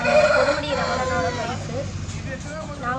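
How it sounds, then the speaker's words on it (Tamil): A red-black fighting rooster crows loudly at close range, its call standing out over a busy background of people talking. "கையில வச்சிருக்கிறது வந்து செங்கருப்பு சேவல்"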